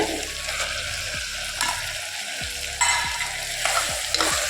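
Pigeon peas fry with ground masala paste in a pan, a close, steady sizzle punctuated by several dull knocks and scrapes as a spoon stirs, with no speech.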